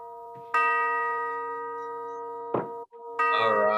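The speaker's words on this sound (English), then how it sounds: "ring the bell for start the meeting." A bell rings out with a clear sustained tone to open a Rotary Club meeting held online, struck twice more with ringing overtones that decay slowly, loud and close with no talk.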